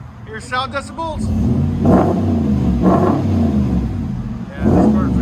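Car exhaust with a resonator delete and exhaust tips, revved several times in deep, rumbling surges, loud and close, with someone talking over the first moments.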